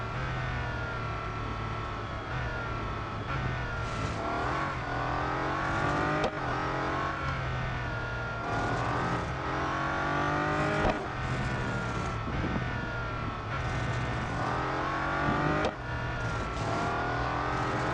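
A Bugatti Veyron race car engine in Real Racing 3 roars continuously and loudly, shifting pitch as it accelerates and upshifts repeatedly through a lap, with no voices over it.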